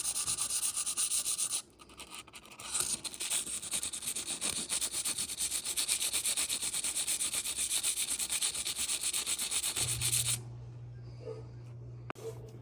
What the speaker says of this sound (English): I'm still gonna take the sandpaper, lightly